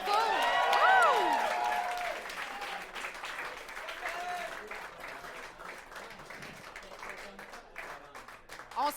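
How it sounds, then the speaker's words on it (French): Audience at an improv match bursts into loud, sustained applause with cheers and whoops, tapering gradually over nine seconds while a voice calls out over the clapping. "on les applaudit, bravo!"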